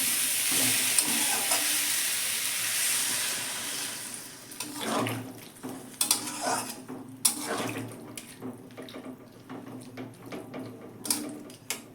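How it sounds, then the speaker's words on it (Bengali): Water poured into a hot kadai of frying yardlong beans and spices: an even sizzle, then a sharp hissing burst as the water hits, followed by uneven bubbling, splashing and a few clinks, close and fairly loud. "এবার আমি জল ঢেলে দেবো"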